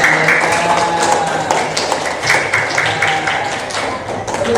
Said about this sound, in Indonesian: Tepuk tangan untuk Mbak Alma.